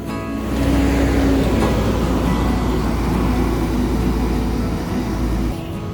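An ANS Royal Executive Class bus pulls away on its first departure on the Padang–Jakarta route, a deep steady engine rumble close by with a low drone that fades near the end.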